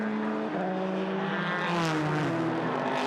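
A Le Mans prototype race car driven by Andre Lotterer at the 2016 6 Hours of Mexico drops into the pit lane, its engine note droning loud and steady with a slight pitch shift, close by and with no talking over it.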